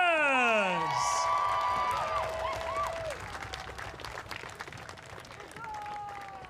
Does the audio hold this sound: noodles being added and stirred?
no